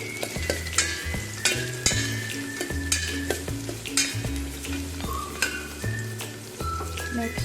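Chopped onions sauté in hot oil for a drumstick lentil soup, giving a steady close sizzle and crackle with occasional stirring scrapes throughout. A low background rhythm runs underneath, and no one speaks.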